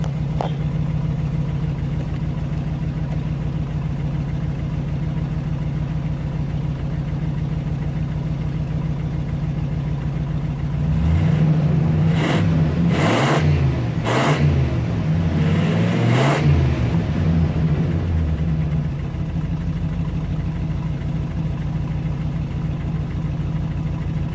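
An old 1983 Buick Park Avenue engine idles with a deep, steady exhaust rumble, revs up several times in the middle, then settles back to idle.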